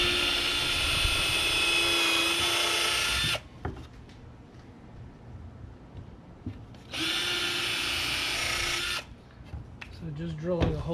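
Power drill boring holes in wood pieces for a birdhouse build, two loud sustained whirring bursts of a few seconds each, separated by quieter handling noise and a brief faint voice near the end.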